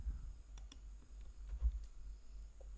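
Computer mouse clicked a few times while moving Windows folders, giving faint, sharp, isolated clicks against a quiet room hum.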